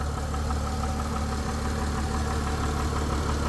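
A 2006 Honda Ridgeline's 3.5-litre engine idling with a steady, close, low mechanical hum and faint ticking, continuous and unbroken, with no talking.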